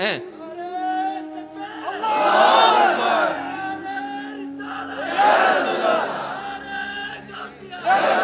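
A crowd at a Bangladeshi waz religious gathering chants slogans in loud, unified call-and-response swells, a leader's voice answered by many voices rising together in repeated bursts.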